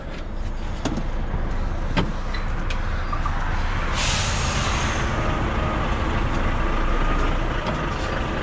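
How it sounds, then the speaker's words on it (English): A semi-truck uncouples from a KRONE semi-trailer while its engine rumbles steadily close by, with a few sharp clanks and a loud burst of air hissing midway. "And now we can separate the truck from the trailer."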